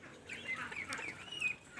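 Month-old crested ducklings give a short burst of high, thin chirps and peeps at close range, several overlapping calls rising and falling across under two seconds with no talk.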